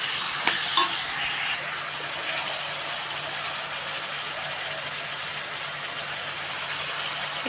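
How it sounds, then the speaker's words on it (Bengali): Chickpeas with ginger-garlic paste fry in a pan in a steady, even sizzle that runs throughout, with a couple of brief clinks from stirring near the start. "এই যে আদা রসুন পেস্টটা দিয়ে দিলাম। এবার একটু নেড়ে নেবো"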